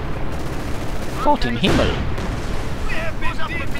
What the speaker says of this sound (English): I do believe that is a fragmented bombing run, clearing out the entire machine gun crew.